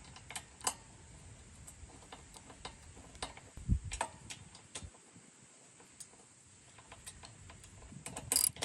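Five-millimeter Allen bolts on a loose bicycle bracket of a BBR Stinger bike are tightened by hand, giving sparse, quiet metallic clicks and ticks close by, with a louder rattle near the end and no voices.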